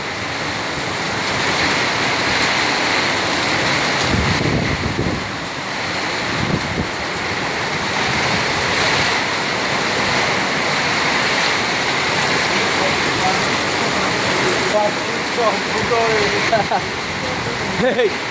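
Heavy rain pours down during flooding in Qatar, a loud, continuous roaring wash that drums on tin sheeting close by, with a few faint voices in the background.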